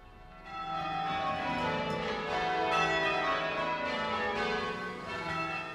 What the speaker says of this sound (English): church bells rang out across the land to celebrate victory